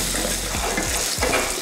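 Shallots, garlic cloves and dried red chillies sizzle steadily in a hot pan for chutney, a loud continuous frying hiss broken by a few soft scraping stirs, no voices.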